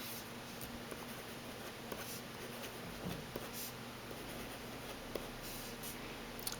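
Pilot Plumix fountain pen nib moving across paper, giving faint, close scratchy strokes dotted with small ticks over a quiet, steady background hiss.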